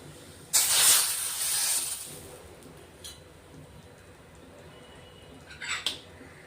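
Hot oil sizzles loudly as chili powder goes in for a tadka over a vegetable curry, a bright hissing burst lasting over a second that then fades, followed by a few faint later crackles.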